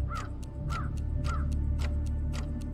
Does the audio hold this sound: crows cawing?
yes